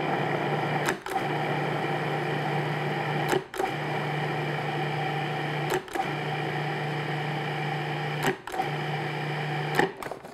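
A food processor mixes apple pie dough with a loud, steady whirring motor, briefly dipping or stopping about every two to three seconds before running again.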